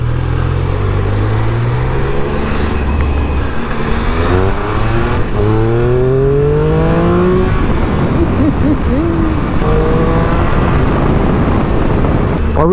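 2025 Triumph Speed Triple motorcycle engine ridden on a road in the south of England, a loud continuous drone rising and falling through repeated revs and gear changes under steady wind rush, with a rider talking over it.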